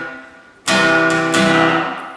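After a brief quiet moment, acoustic guitar strums come in bright and close, a few firm strokes moving from verse chords into the pre-chorus, ringing on without any voice.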